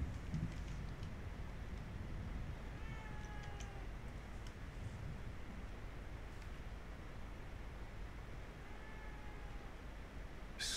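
A cat meows twice in The Evil Within 2 video game, two short, thin calls spaced well apart over a constant hiss of rain-like background noise, with no speech.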